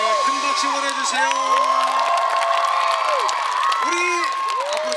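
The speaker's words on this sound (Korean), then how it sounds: "큰 박수 보내주세요." A crowd at an outdoor concert in a public square cheers and whoops continuously, with high shouts and some clapping, loud and close throughout.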